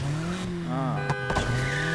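Car racing in Need for Speed Heat online, with a steady engine drone, tire squeal swooping through the middle and short skid bursts near the end; a voice is partly heard over the game audio.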